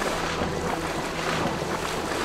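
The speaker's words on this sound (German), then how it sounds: "Das ist ein Wasserfall, oder?" Short stretch of a waterfall in Divinity 2, a continuous even hiss and roar of falling water, unchanging in level and with no voices over it.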